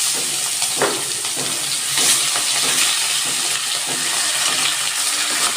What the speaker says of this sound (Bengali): ট্যাংরা মাছ তো তেল ছিটবে খুব, আমি একটু নুন ছিটিয়ে দিলাম। এবার আমি মাছগুলো দিয়ে দিচ্ছি।